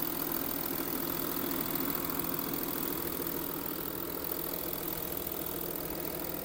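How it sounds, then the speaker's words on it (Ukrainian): A 2014 Audi A6 Quattro engine idles steadily with a low, even hum and faint knocking rhythm, running continuously and close by with no talking. "Двигун працює ідеально."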